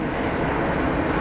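Jetstar airliner taking off from runway 19 left at Brisbane airport, a broad, loud continuous engine roar with no breaks across the short stretch.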